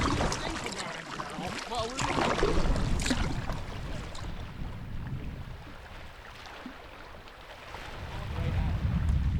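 A paddled boat crosses the open water of the Bay of Fundy, with sloshing water and paddle strokes against rushing wind buffeting the microphone, while a person talks now and then.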